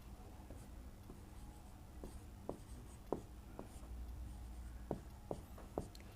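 Pen writing on paper while working a class 10 maths problem, a faint run of short scratchy strokes and taps spaced irregularly over a quiet room hiss, with no talking.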